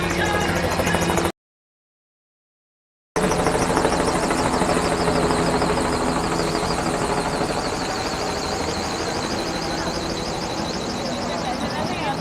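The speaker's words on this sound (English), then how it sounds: "And a helicopter tour for sure." A tour helicopter flying over Manhattan near the Brooklyn Bridge on Labor Day gives a steady rotor and engine drone, loud and continuous through a busy crowd with voices around, briefly cut by a gap of silence.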